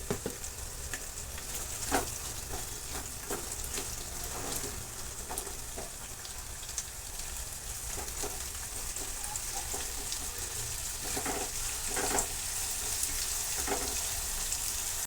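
Onions sizzle steadily in hot oil with a pinch of salt for Kolhapuri-style kande pohe, a continuous crackling fry with occasional stirring scrapes, close and fairly quiet, with no talking.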